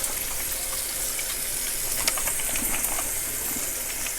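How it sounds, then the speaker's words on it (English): Tap water runs steadily while hands are washed in a kitchen, a constant hiss with small splashes and clinks over it, with no talking. "I am going to wash my hands before we get started."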